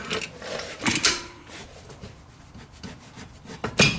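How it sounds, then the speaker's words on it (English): Vice grips pull a lower glide pin bolt from the rear brake caliper of a Chrysler 200, producing several scraping, rubbing metal sounds in short bursts, close by. "We're just going to pull that bolt right out."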